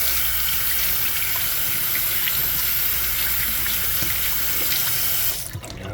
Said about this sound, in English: what I'm going to do is go wash my hand off.